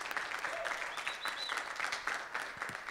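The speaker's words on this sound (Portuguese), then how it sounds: "Uma salva de palmas para a Milena, por favor." Audience applause at a panel event, steady dense clapping from a crowd throughout, fairly loud and continuous with no talking over it.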